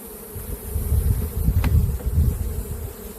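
Honey bees buzz around hive frames during a honey harvest, a close, dense droning swarm that swells and fades slightly over a few seconds.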